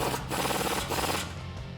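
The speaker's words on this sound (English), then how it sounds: "grab your 19 socket and tighten down the bottom of the sway bar end link" A 19 mm socket tightens the bottom bolt of a sway bar end link on a 2007-2021 Toyota Tundra during a front leveling kit install, giving a close, steady grinding, rubbing ratchet sound with brief pulses.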